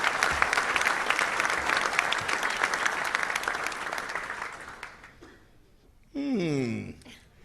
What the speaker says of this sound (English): All of our sponsors, let's give them a round of applause, if you will.